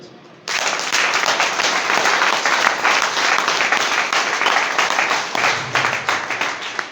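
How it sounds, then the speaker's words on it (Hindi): An audience at a seminar suddenly bursts into loud, sustained clapping after a quiet moment, many hands beating densely and continuously, thinning slightly toward the end. "तो एक बार जिंदाबाद वाली ताली।"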